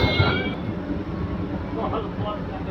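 MEMU local train (75213 Raxaul–Mehsi) being shunted at Raxaul Junction station: a steady low rumble of railcars with broadband noise throughout, and a voice talking faintly over it.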